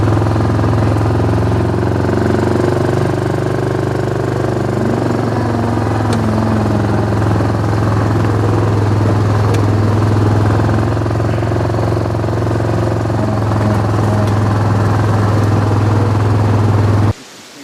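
A tractor engine runs steadily and loudly close by out on a farm. Its low droning rumble holds constant for the whole stretch, then cuts off abruptly at the very end.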